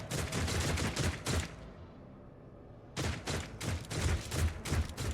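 Bursts of rapid gunfire in the game Warhammer 40k: Rogue Trader, two dense volleys of shots separated by a quieter pause, fairly loud and without talk.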